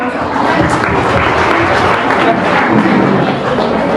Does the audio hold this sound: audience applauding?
yes